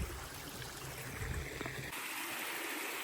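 A small, shallow creek runs over slippery rocks at a trail crossing on the way to hot springs, giving a steady close-up gurgle and trickle of water throughout, with no talking.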